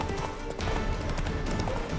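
Rapid, steady hoofbeats of a galloping horse in The Witcher 3: Wild Hunt drum along at moderate volume, with a faint hiss in the background.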